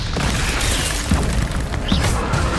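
Expelliarmus disarming spell cast in Hogwarts Legacy, a loud booming magical burst with crackling impact layered over dense game sound effects, no talking.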